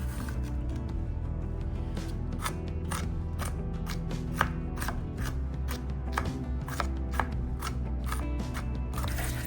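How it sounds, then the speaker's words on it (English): Fresh onions chopped into small pieces with a knife on a board, giving a brisk run of crisp, evenly spaced cuts over a steady low background hum. "We'll cut the onions into small pieces."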